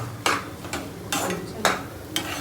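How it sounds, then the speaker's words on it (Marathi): Metal spoon clanking against a pan while stirring masala on a gas stove, five separate bright clinks spaced irregularly over a low cooking hiss, close and fairly loud. "चमच्याचा आवाज तर पण किती करतो"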